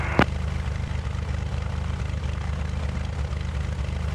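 A Cessna 172 light aircraft's engine runs steadily on the runway in a continuous, fairly loud droning hum, with a single sharp click near the start and no talk.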